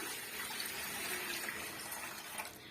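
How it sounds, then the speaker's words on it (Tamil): Water runs into an idli steamer pot in a home kitchen, a continuous, even gushing pour like a tap filling a vessel, close and steady for the whole stretch. "இப்போ தேவையான அளவுக்கு நம்ம தண்ணி சேர்த்துக்கலாம்"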